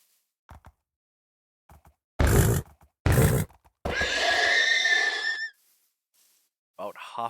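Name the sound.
horses neighing in a video game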